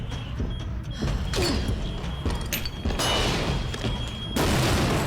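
A flashbang grenade in Resident Evil 2 Remake goes off twice in loud, sharp bursts of hiss-like noise, one about three seconds in and another near the end, over a steady game rumble with creaks and no talk.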